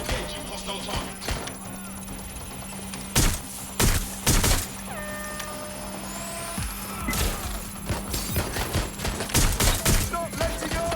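Scattered gunfire in Watch Dogs: Legion, with bursts of sharp shots in several clusters over a low rumbling game backdrop and faint vehicle-like drones.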